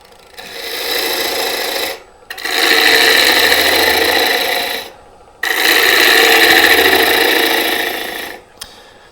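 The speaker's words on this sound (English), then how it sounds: "I'm making a push cut to clean that up" A lathe makes a push cut on a spinning mulberry wood bowl, giving three long, loud, steady rasping passes of the tool with brief quiet gaps between them.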